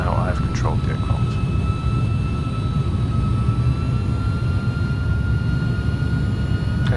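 A simulated Airbus A300-600 jet in flight in X-Plane 11, a steady, loud engine roar with a thin high whine holding constant for several seconds.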